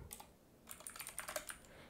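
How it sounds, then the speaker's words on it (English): Quiet, close typing on a computer keyboard: a short run of soft keystroke taps, then a denser cluster of clicks. "I'm typing here, form"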